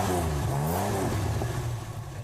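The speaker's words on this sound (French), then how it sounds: "ce ne sont pas les vagues qui grondent sur le front de mer de Dieppe, mais bien les voitures" Alpine sports cars driving along the Dieppe seafront, engines revving loudly and steadily with rising and falling pitch throughout, close by with no talk.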